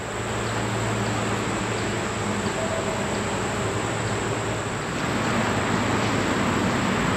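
Honeybees buzz steadily throughout an open hive inspection during Formic Pro treatment, a dense, continuous drone close by with no talking.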